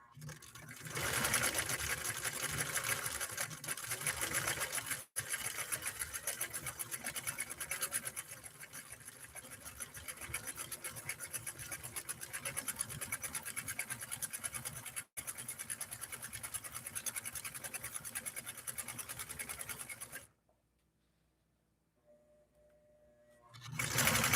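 A Nordic-Husqvarna Automatic sewing machine runs steadily on cam A, stitch 3, sewing a three-point zigzag with a dense, continuous whirring clatter for about twenty seconds, broken by two brief pauses, before stopping to near silence.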